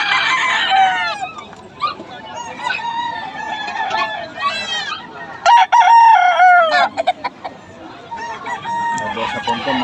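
Several Boston gamecock roosters crow and cluck loudly nearby in overlapping calls at a market in Bocaue, with a busy background of voices and a sharp thump partway through.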